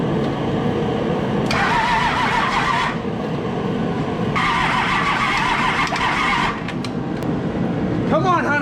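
A Cummins diesel swapped into a vehicle cranks in two loud, rhythmic bursts after fuel priming, then catches and runs, with excited voices talking over it throughout.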